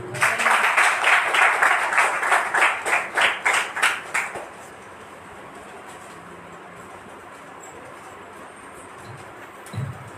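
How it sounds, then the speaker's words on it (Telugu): Loud clapping from a church congregation at a Sunday service fills the first four seconds in a pulsing rhythm, then stops abruptly, leaving quiet room tone. "గట్టిగా చప్పట్లు కొడదాం"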